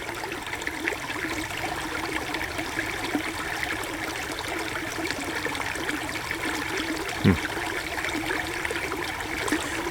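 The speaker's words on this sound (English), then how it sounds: "The water in this little creek" Water flows in a little creek, a soft, steady trickle and babble running unbroken at low level, with one brief louder splash partway through.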